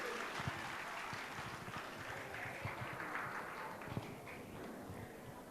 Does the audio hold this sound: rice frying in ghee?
no